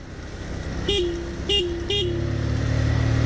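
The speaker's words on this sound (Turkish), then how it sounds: "Korna çalacağım. 3 korna." Three short horn toots sound in quick succession over a running 100 cc motorcycle engine that revs up afterward, close by.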